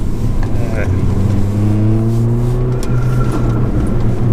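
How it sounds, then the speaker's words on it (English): A remapped Mercedes A45 hums with a steady, loud exhaust drone close by, and a few sharp crackles pop over it near the end, with no talk. "It's those crackles that get me every time."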